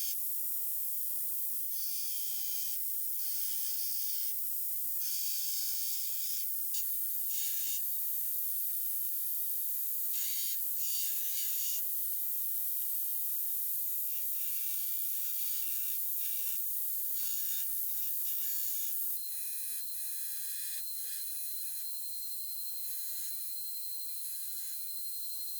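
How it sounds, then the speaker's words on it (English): A grinder hogs material off a forged 2,025-layer fantasy sword blade. It makes a continuous, bright, abrasive hiss that rises and falls slightly as the steel is worked, steady and close, with no talking. "it is now time to hop back on the grinder and get to hogging"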